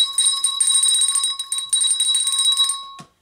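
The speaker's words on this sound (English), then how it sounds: "So I need to ring my little bell." A small hand bell rings close and bright for about three seconds, a shimmering continuous jangle that stops abruptly.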